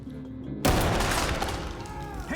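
In the tactical shooter Ready or Not, a loud burst of gunfire suddenly breaks a quiet moment and rolls on as a dense, crackling volley with echoing reports.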